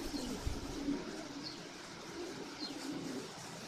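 Low, soft coos of racing homer pigeons in Kolkata murmur steadily beneath a wash of heavy rain, with a few faint chirps overhead.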